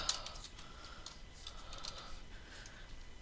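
Quiet, continuous typing on a computer keyboard, a steady patter of soft key clicks with no talking.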